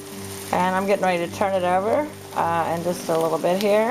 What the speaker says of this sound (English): and then we're deep frying it over the stove.